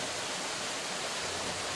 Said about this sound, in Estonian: Turjekeldri juga on veevaene ja võib põuasel ajal isegi kuivaks jääda